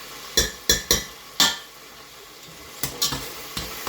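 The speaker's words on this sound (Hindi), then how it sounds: "अदरक को डाल के थोड़ा सा फ्राई कर लिया।" Ginger paste frying in a cooked tomato and onion masala for chana dal pulao, with sharp spoon clinks and scrapes against the pan in bursts over a low sizzle, close by.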